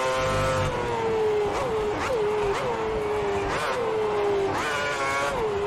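Formula 1 race car engine in the F1 2010 video game during the final lap, a loud high-pitched whine rising through the gears with quick upshift dips, constant and close.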